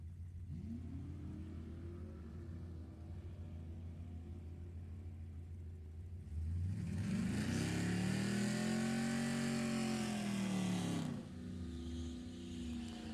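Drag race cars at Sacramento Raceway, including a 1966 Chevelle and 1982 Camaro, with a steady engine drone that swells into a loud revving launch before dropping back to idle.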